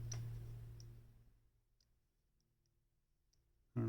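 A PT5000 watch movement in a BB58-homage dive watch, with the crown turned past the date position: a few faint, sparse clicks over near silence, then a sudden loud noise at the end.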